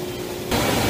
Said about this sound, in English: here's a view of the entire printing press